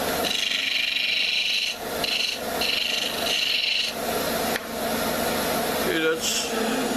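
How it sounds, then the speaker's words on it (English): A spindle roughing gouge cuts a small wooden handle blank spinning on a lathe, making a loud, continuous rasping hiss that dips briefly between passes, with the lathe's steady whir underneath. "I'll use a roughing spindle gouge to start it out with."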